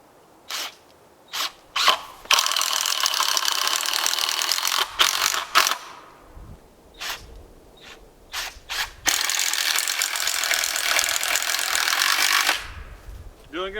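A ratchet driving screws in tight while building a roof on a small hut, with several long bursts of rapid mechanical clicking broken by short single clicks and pauses, close and loud.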